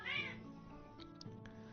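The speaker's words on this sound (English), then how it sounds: "I hear my cats having an argument in the background" Cats meow and squabble in the background, with one clear rising yowl followed by a few fainter short calls, distant and moderately quiet.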